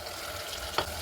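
Onion and tomato frying in a pan with curry leaves, a faint continuous sizzle and one brief stirring scrape near the end.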